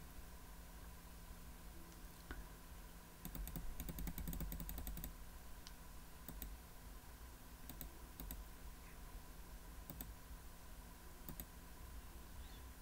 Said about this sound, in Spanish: Le vamos a dar varios clics ahí